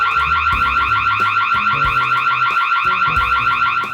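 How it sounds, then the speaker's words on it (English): Ring Floodlight Cam Plus alarm siren blaring loud and continuous, a harsh pulsing electronic tone repeating in rapid, regular cycles with no voices. "I can also turn on the loud alarm"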